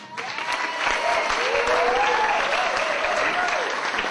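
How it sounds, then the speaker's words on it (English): Wedding guests clap for the bridesmaids at a reception, a dense, steady burst of applause that runs the whole time with a faint crowd murmur and no clear words. "And also a clap for the lovely bridesmaids."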